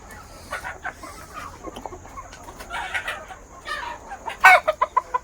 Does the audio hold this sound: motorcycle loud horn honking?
no